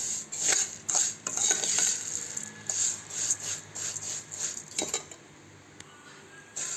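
Vermicelli roasts in a spoonful of oil over low heat in a pan, with a spoon scraping and stirring in irregular, moderately quiet strokes over a soft background sizzle.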